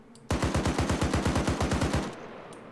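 Automatic gunfire in a combat video game rakes a wooden shack, a loud rapid burst of about seventeen evenly spaced shots lasting under two seconds, then a short fading tail.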